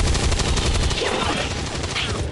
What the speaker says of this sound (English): Take the shot, Lopi.